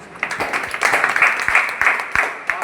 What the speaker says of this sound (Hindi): एक बार सबके ताली बजा दीजिए।